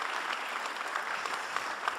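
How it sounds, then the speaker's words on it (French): An audience claps together in sustained, dense applause, steady and even in loudness throughout, with no cheering or talk standing out. "applaudissez spontanément"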